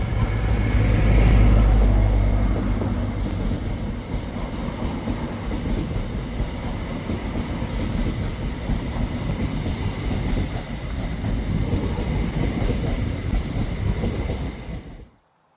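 Cross Country HST passenger train on the Pines Express farewell railtour running along the line near Romsey and Salisbury, a steady loud rumble of wheels and engines with rail squeal, fading out abruptly at the end.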